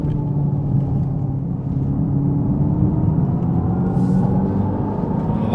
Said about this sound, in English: It's almost like there's a blow-off valve going on too with this artificial noise.